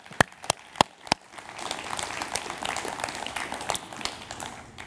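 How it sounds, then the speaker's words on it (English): An audience of about 800 at a closing session of a conference breaks into applause, with a few sharp early claps quickly swelling into a sustained, moderately distant clatter of many hands. "perhaps if the 800 clap very loudly"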